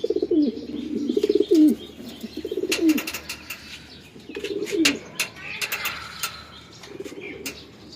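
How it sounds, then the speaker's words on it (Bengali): Domestic pigeons coo repeatedly in a home loft, a series of low, rolling coos close by with intermittent chirps and small rustles between them. "তো এইখানে যে কবুতরগুলো আছে এগুলো আমার"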